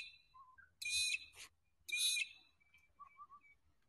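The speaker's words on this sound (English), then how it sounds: "I think that was the magpie lark that made that squawky noise" Magpie-lark calling beside a lake in the early morning, two loud harsh squawks standing out between faint whistled bird notes in a quiet setting.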